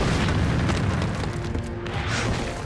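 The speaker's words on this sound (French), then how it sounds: "les Soviétiques lancent un barrage d'artillerie" A Soviet artillery barrage pounds a battlefield with continuous, heavy booming explosions overlapping into a dense, loud rumble with no pauses.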